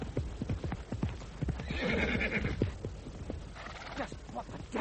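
Horses' hooves clip-clop steadily up close while a horse whinnies and neighs in bursts, with shouting voices mixed in during a chaotic struggle to rein in a runaway horse.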